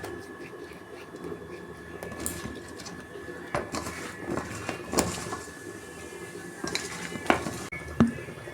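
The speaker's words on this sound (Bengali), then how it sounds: "আমি কড়া বসিয়েছি, তেল দিচ্ছি, পটলটা আমি ভেজে নেব।" A wok (kadai) set down on a gas stove, a few sharp metallic clanks and knocks against a quiet kitchen background, with softer handling clatter between them.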